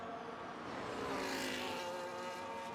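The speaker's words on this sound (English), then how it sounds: "There's a Ferrari coming round right now." A Ferrari race car in a racing video game at Spa roars past, a sustained high engine whine that swells and fades over a few seconds.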